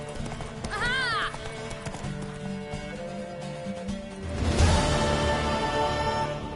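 A galloping horse in the video game The Witcher 3, with rhythmic hoofbeats and a clear rising whinny early on, swelling into louder pounding hooves near the end, with game voices talking over it.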